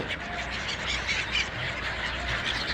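Birds calling continuously against a dense, noisy outdoor background at Prabhas Patan near Somnath, with no single call standing out clearly.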